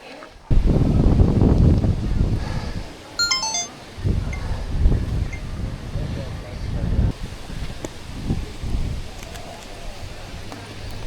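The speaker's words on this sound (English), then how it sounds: "That is one heck of a headwind." A strong headwind buffets the microphone during a RAGBRAI bike ride, with loud, gusty low rumbling that rises and falls throughout while people talk over it.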